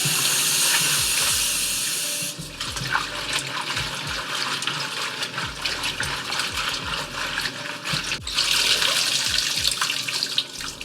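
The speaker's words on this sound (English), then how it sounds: "So let's go to the sink and wash them up." Water pours steadily from a tap into a sink, splashing and gushing as collard greens are rinsed, the flow shifting in strength partway through.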